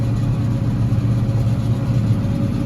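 Tractor engine running steadily while baling hay in a field, a loud, close, low mechanical hum with a constant drone and slight fluctuations, no talk.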